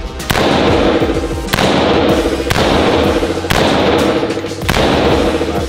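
A weapon fires in a Scarface-themed video game set in Miami, repeated heavy gunshot bursts at regular intervals, loud and close, with the blasts running almost continuously.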